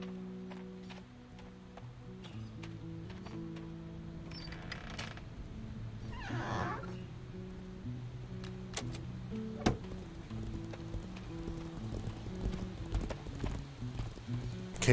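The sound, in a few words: horse hooves in a video game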